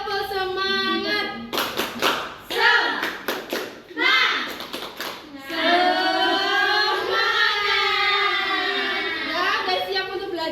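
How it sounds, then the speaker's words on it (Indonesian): A first-grade class performs a rhythmic clapping chant, children's hands striking in quick patterned bursts between sung and chanted group voices, with a teacher's voice leading near the microphone. "Ya, tepuk semangat dulu ya."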